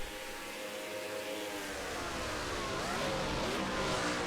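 Race cars lapping nose to tail at Road America in the NR2003 racing game: a dense, sustained roar of several engines with rising and falling whines, loud and continuous with no talk.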